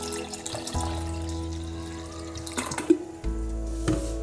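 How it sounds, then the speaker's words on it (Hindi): Water splashes and trickles into a bowl holding turmeric at close range, a steady liquid pour with a few clinks, no talking. "पानी ऐड करेंगे इसमें,"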